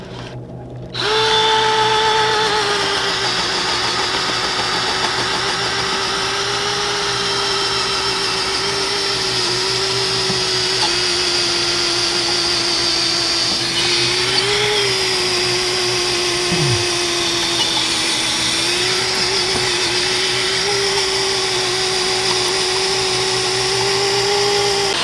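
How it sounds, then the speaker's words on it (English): A power drill bores a hole, a steady close whine running continuously for over twenty seconds with slight pitch wobbles as it bites, heard alone. "we drilled a hole"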